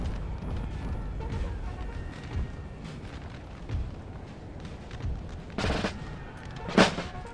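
Musket volleys and artillery fire from a Napoleon Total War battle with Swedish forces, heard as a rumbling backdrop with a few louder distinct cracks and booms near the end.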